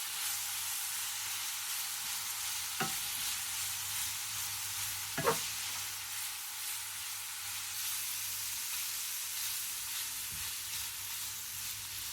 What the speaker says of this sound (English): In goes 1 cup of raisins. Fry for 2 more minutes.